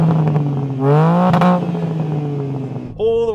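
BMW M3 Touring engine revving hard up to 7,000 RPM, a loud rising howl with popping exhaust crackle, then a brief second blip near the end; close and dominant.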